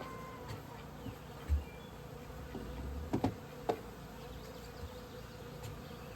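Honey bees hum softly around an open hive while brood frames are rearranged, a faint steady insect drone with a few light knocks of wooden frames.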